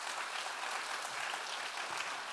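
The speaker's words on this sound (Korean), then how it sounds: "격려의 박수를 한번 주십시오" Church congregation at a Friday evening service giving steady applause of encouragement, a full, continuous wash of clapping hands at moderate distance with no speech.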